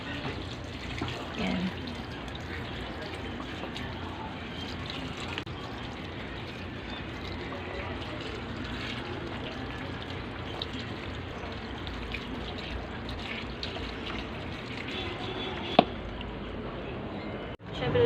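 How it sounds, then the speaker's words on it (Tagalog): A steady, moderately quiet rush of tap water filling a basin for hand-washing tattered ukay-ukay pants runs throughout, with a person speaking briefly over it and a small knock near the end. "Lagyan muna natin siya ng tubig."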